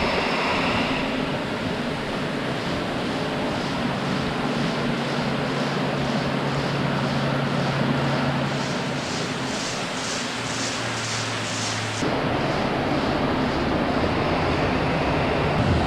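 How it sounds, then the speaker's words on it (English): Flush valves in a milking parlour releasing water to wash manure down the alleys: a steady, loud, broadband rush of running water throughout, with a faint low hum and a slight shift in tone near the end. "we just click one and it'll run a flush cycle here and get rid of all the manure"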